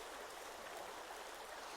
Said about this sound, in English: get a nice drink of water